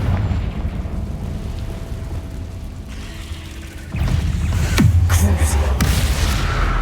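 Confringo spell blast in Hogwarts Legacy, a booming game explosion with bursting crackle landing near the end after quieter combat ambience; no talk.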